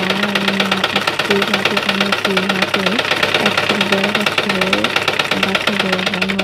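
Sewing machine stitching a double-folded elastic casing on a baby girl's pants, a steady close mechanical whirr running throughout, with short pitch shifts as the stitching speed changes.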